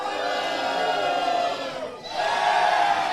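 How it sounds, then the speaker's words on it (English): A pro wrestling crowd keeps up a loud, sustained roar of booing and cheering, briefly dipping before surging back even louder. "This crowd firmly in Leela's corner as we hear the boos every time Alice strikes and the cheers and every time Leela strikes."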